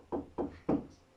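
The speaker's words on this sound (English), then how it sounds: "There's someone knocking again." Three quick, soft knocks on a door in a home, evenly spaced and fairly faint, with no voices over them.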